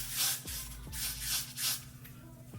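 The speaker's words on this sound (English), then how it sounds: "spray a good amount of Got2b right" Several short hissing bursts of Got2b hairspray onto a wig, fairly close, separated by brief pauses, with a low steady hum underneath.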